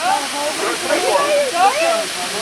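A Tennessee waterfall pours in a steady, broadband rush, with voices talking over the water.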